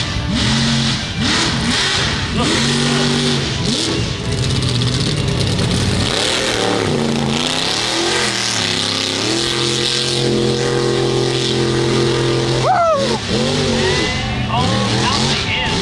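The Voodoo mega truck's big engine revs loudly at a mud racing event, rising and falling roars with sustained high-rpm pulls, close and dominant, while a voice speaks briefly over it.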